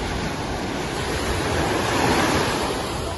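Surf breaking steadily on a long beach with turquoise water, a continuous broad wash of waves close by, swelling slightly toward the end, with some wind on the microphone and no voices.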